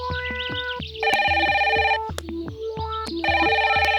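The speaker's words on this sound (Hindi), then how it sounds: "सिंह जनाब फोन उठाओ। उठाइए जनाब, पास में ही है" A telephone rings in a Hindi film scene with a bright electronic ringtone in repeated bursts, loud and close, with short gaps between rings.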